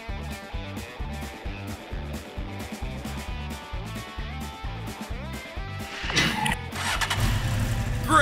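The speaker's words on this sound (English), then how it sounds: "And finally, a new engine." A cartoon racing car's new engine turns over in a rhythmic series of regular pulses, then fires up into a louder, rougher roar near the end.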